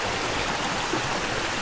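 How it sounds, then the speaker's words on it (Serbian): Water flowing steadily in a stream, a constant close rushing and babbling wash that fills the short stretch with no voices. "Da vidiš kako voda miluje"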